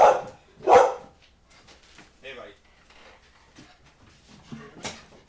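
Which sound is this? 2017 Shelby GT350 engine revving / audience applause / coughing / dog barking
dog barking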